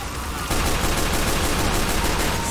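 Engineer's pistol in Team Fortress 2 firing a quick run of rapid shots, a steady loud crackling burst that starts abruptly and carries on without pause, with no talk over it.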